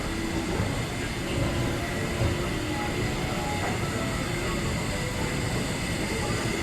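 Inside the Amtrak concourse of a New York train station, a broad, steady rumble of rail traffic and crowd wash fills the space, with a faint squeal rising briefly over the constant hum.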